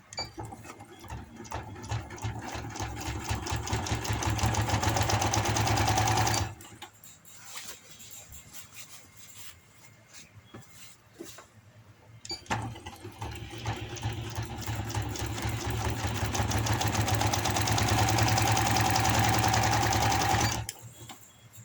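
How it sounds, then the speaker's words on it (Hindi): An electric sewing machine runs in two long bursts, stitching the side seam of a ladies' palazzo pant, a steady close whirring buzz that stops briefly in the middle before starting again. "इस तरह से रखते हुए मैं इसकी सिलाई लगा दूँगी।"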